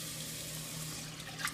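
Water runs steadily from a tap into a pot for chicken noodle soup, a soft continuous splashing at close range with no talk.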